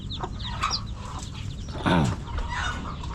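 Chickens and a brood of fourteen chicks at a home construction site, clucking and peeping close by, with one louder, drawn-out call standing out midway over steady low background noise.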